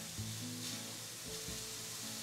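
A thin chicken crepe heats on one side in a hot pan, giving a steady, fairly quiet broadband sizzle with low hum and tonal background sounds beneath it and no talking.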